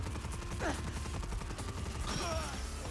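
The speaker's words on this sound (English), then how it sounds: "That's a lot of bullets to be putting into someone for absolutely 0 kills." Gunfire from the Superi-46 rifle in the video game Fallout 4, a dense, continuous stream of loud rapid shots that runs through the whole moment, with faint sweeping tones above.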